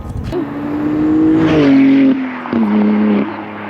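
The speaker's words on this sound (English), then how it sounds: "I've come to really enjoy that nice, strong, and throaty S58 rumble" A BMW G80 M3 with the S58 engine and a single non-resonated mid-pipe gives a loud, throaty exhaust rumble, rising in pitch as it revs, dipping, then pulling again, heard close with no talk.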